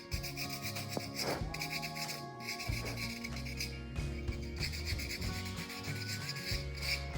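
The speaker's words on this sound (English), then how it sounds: "we're going to take some sandpaper and we're going to do a light sand on it" Sandpaper is rubbed lightly over an oyster shell in a continuous scratchy rasp with small pulses of stroke rhythm, close and steady throughout.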